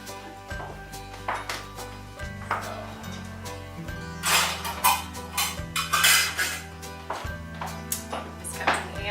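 Metal cutlery and utensils clatter and clink against pots and pans while someone rummages for a scoop for Kamut flour, with a steady musical drone underneath and sharper bursts of jangling midway.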